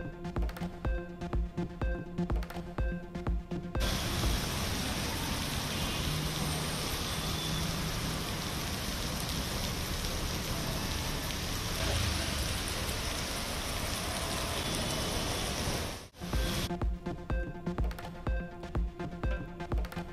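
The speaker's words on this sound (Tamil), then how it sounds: "சென்னையில் பெய்த திடீர் கனமழையால் வாகன ஓட்டிகள், பொதுமக்கள் அவதி." A sudden heavy downpour over Chennai pours down as a dense, steady hiss for most of the stretch, framed by tonal music at the start and finish.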